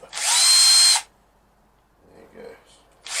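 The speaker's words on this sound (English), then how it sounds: "It's not a robot, it's my drill." A power drill whirs in a short, steady, high burst near the mic, stops, then starts again briefly at the end, with a voice murmuring in the gap during a model aircraft build.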